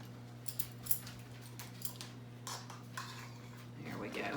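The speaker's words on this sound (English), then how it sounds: "I'm going to add 3/4 of a teaspoon of baking powder" A measuring spoon scrapes and clinks against a bowl as baking powder is added for chocolate truffle cookies, with soft light taps and rustles over a low steady hum in a quiet kitchen.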